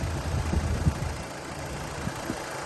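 A 2005 BMW 318i's engine idles with a low, steady rumble and a few soft knocks, heard briefly and fairly quietly.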